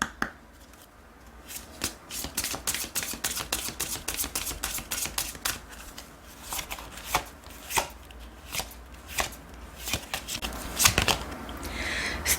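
Oracle cards being shuffled by hand during a tarot reading, a run of crisp, rapid riffling taps and flutters that hold steady for several seconds and then break into separate louder card slaps, close and alone with no talking.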